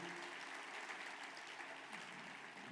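A church congregation applauds during a worship conference service, a steady, soft wash of many hands clapping heard from a distance with no gaps.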